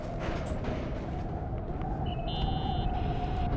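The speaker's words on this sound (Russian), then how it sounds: "Реально буря, слушай." A low, steady rumbling storm in The Suicide of Rachel Foster, continuous and droning, with a faint tonal hum and a brief electronic beep rising over it.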